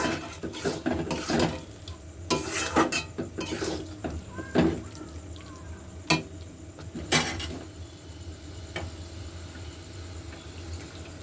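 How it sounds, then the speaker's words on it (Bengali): A paste of poppy seed, cashew and melon seed being stirred in a pan: soft, close scraping and knocks in uneven bursts, fading to quiet stretches near the end. "পোস্ত বাটা কাজু বাটা আর চালমগজ পেস্টটা দিয়ে দিলাম দিয়ে আর খানিক্ষণ নাড়াচাড়া করে নেব"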